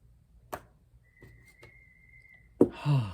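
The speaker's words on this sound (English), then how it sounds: "Someone is blowing a whistle." A thin, steady whistle tone sounds for about a second and a half amid faint knocks, followed by a louder burst of noise.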